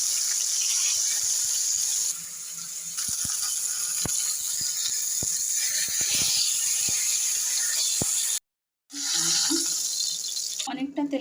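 A rohu fish head fries in plenty of oil, giving a steady close sizzle scattered with small pops and crackles, interrupted by a brief silent gap near the end.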